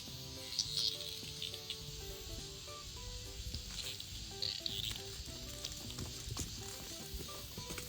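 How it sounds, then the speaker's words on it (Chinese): Steady rain patters outdoors in a broad, continuous hiss with scattered faint ticks, moderately loud throughout and without talk. "下雨了"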